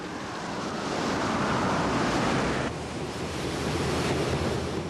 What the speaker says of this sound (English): They can whip the sea up into a 10-meter surge. Waves reach impossible heights.